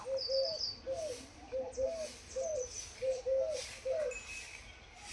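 House sparrows chirp in short repeated calls at a steady pace outdoors, fairly faint, with soft background noise and no talking.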